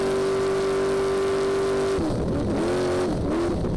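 An off-road race vehicle in the NORRA Baja rally holds wide open throttle with a loud, sustained engine whine, then the pitch drops and wavers through a few quick revs as it backs off and surges again.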